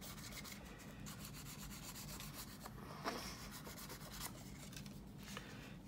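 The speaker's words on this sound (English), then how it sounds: "And this sandpaper is a little stiff." A stiff, cheap sheet of sandpaper rubs back and forth over a plastic part from a 1/32 scale model jet kit, a quiet close scratchy rasping in quick repeated strokes.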